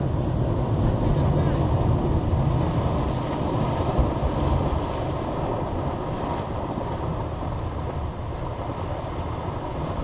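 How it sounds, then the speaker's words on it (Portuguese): Strong ocean surf surges into a narrow rocky channel on the coast near Ubatuba, Brazil, a loud continuous churning roar of water with wind buffeting the microphone throughout. "Vê, espera um pouquinho bater uma onda forte aí."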